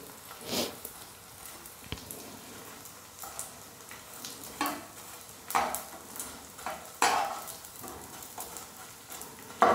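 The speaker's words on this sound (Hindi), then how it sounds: "ये इस तरह से पलट देंगे ताकि नीचे से भी अच्छे से सीख जाए।" Ingredients being stirred and roasted in a pan for laddu, soft scraping and turning strokes at irregular intervals over a low sizzle, no speech.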